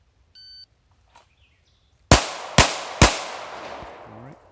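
A shot timer gives a short electronic beep at an outdoor range, and after a pause an AR15 rifle fires three loud, sharp gunshots in quick succession, each followed by a ringing echo tail.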